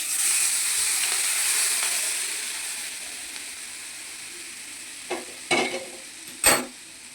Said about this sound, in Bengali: এই কারি পাতা হয়ে গেছে, কারি পাতা ভাজা হয়ে গেল। এইবার এর মধ্যে এই তেলটা দিয়ে দেবো।